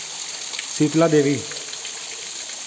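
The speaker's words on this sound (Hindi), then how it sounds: "झरना यहाँ खूबसूरती के साथ बह रहा है" A waterfall in the Bardaha valley, Madhya Pradesh, gives a steady hissing rush of falling water throughout, briefly under a short spoken phrase from a nearby voice.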